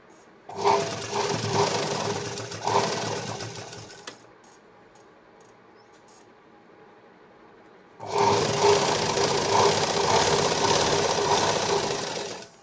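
Sewing machine stitching a katori blouse: two loud bursts of rapid mechanical whirring, the first about three and a half seconds, then a pause of near quiet, then a second run of about four seconds.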